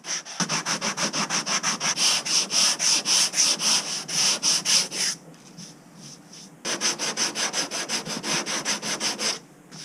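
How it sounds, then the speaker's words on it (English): Steady rhythmic back-and-forth sanding strokes with 80-grit paper on a fiberglass boat hull, close and loud, with a brief pause midway before the strokes resume. "After sanding with 80 grit and you're satisfied there are no more high spots and low spots"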